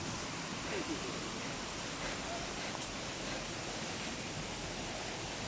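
A large waterfall roars as a steady, broadband rush of falling water, heard close and constant from start to finish with no breaks.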